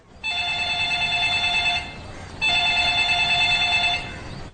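A telephone rings in a Malayalam film scene, two loud bursts of electronic trilling separated by a short pause, with no talk over it.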